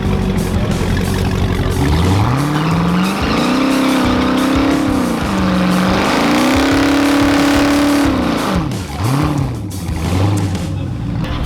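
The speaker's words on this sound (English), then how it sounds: "I say as he does an absolutely tiny burnout" An LS1-swapped Mazda RX-8 does a short burnout at a TX2K drag race, its engine roaring loud and close with revs rising and falling, tires squealing and a crowd-filled outdoor wash around it.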